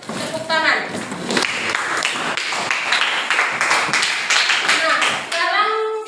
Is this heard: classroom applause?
yes